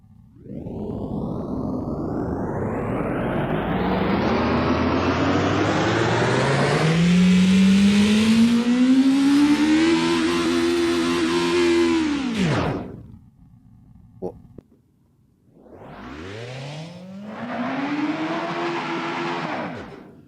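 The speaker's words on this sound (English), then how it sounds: "we come to the engine sound" An Assetto Corsa video game car engine revs up through rising pitches to a high scream, cuts off, then revs again briefly.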